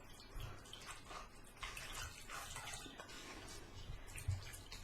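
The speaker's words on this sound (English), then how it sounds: "Just squeeze the water out as much as you can." Water trickles and splashes softly and unevenly as it is squeezed by hand out of wet paper pulp, close by and quiet, with small drips and wet squelches.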